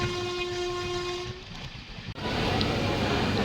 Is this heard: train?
yes